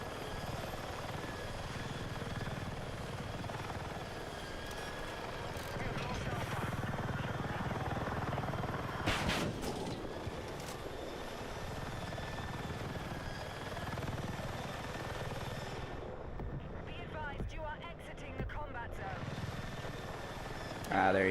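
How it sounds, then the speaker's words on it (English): A NATO helicopter in a game flies with a steady droning rotor and engine hum throughout, a brief louder whoosh midway, and a voice speaking over it at times. "Flying NATO heli"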